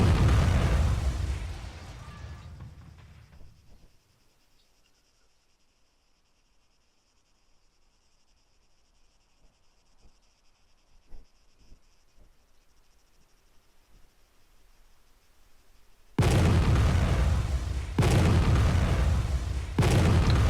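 Artillery shells explode in ArmA 3, first a loud booming blast that fades into a quiet hum with faint distant pops, then heavy close explosions crash in near the end, with no talk over them.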